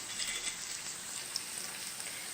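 Fish curry with mango simmering in a pot gives off a soft, steady bubbling hiss, faint and continuous with tiny pops, and no one speaks.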